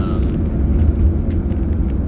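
Vehicle with oversized tires and a mechanical piston-driven fuel pump coasting down a hill, heard from inside as a loud, steady low rumble of road and drivetrain noise with no voices.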